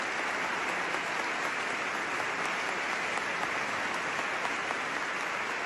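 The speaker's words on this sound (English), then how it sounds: "whole place is applauding" A packed church crowd claps in continuous, even applause that fills the large space like steady rain, a broad wash with no pauses and no voices rising above it.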